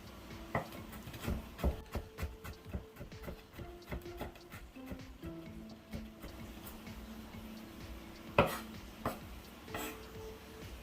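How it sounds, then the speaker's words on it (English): A knife cuts up ginger on a cutting board, a series of soft, irregular chopping taps at close range, quiet and with no talk. "And then I'm going to cut up my ginger."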